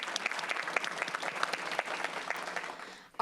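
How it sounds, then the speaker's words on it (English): Audience at a school board meeting gives a round of applause for a visiting student, dense steady clapping from a moderate crowd that fades out at the end. "So give her a round of applause for showing up."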